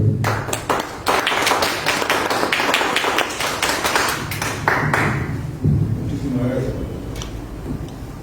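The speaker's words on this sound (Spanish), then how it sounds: "Fuertes palmas para el compañero." An audience at a book presentation on drug trafficking claps in scattered, uneven applause that fades as a voice begins speaking over a room microphone.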